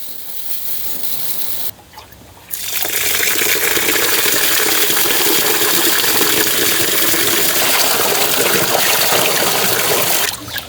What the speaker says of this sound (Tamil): அரிசியை நல்ல வடிவாக கழுவி எடுக்கணும்